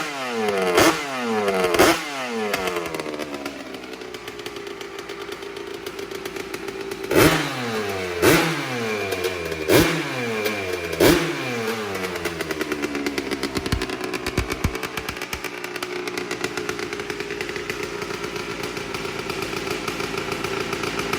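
A 250R four-wheeler engine with a richened fuel mixture, idling roughly and snapping through sharp throttle blips, each rev rising then falling away, close and loud with a clattery, buzzy tone.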